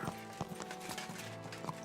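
Horse hooves clip-clop at a steady walking pace in Kingdom Come Deliverance 2, a medieval game, with several distinct close hoof strikes over a continuous ambient background and no talking.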